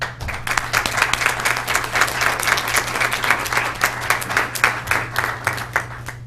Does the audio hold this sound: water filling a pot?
no